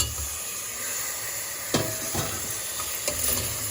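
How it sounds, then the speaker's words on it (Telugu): Pieces of mutton paya sizzle in a pan with turmeric. A constant frying hiss runs underneath, broken by a few louder clatters as the pieces drop in and are moved around. No one talks. "ఫ్రై అయింది కాబట్టి ఇక ముక్కలు వేస్తున్నాను."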